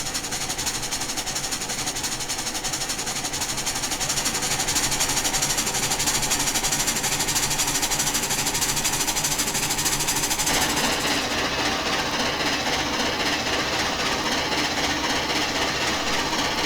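Frisco T-54 4-8-2 Mountain steam locomotive in Trainz simulator running at high speed, a dense, rapid, continuous chuff roaring loud and unbroken throughout, with a slight shift in tone partway through.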